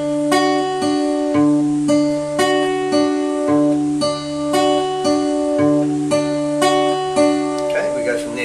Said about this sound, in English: So playing C 4 times will sound like this.